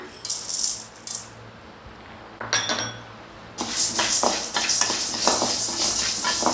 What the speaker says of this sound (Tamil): இதே கடையில் நம்ம உளுந்தை போட்டு வறுத்துக்கலாம்